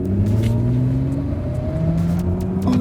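A car driving in Sport mode, its engine humming steadily with a rising tone as it accelerates, heard from inside the cabin, continuous and fairly loud with light road noise, no talking.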